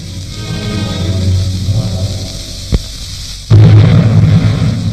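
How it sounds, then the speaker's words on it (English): Explosions from a wartime bombardment at dawn on a coastal landing beach: a sharp single blast cuts through a steady rumbling roar, followed by a louder, sustained heavy burst of booming noise, with no talking. "The bombardment began at dawn."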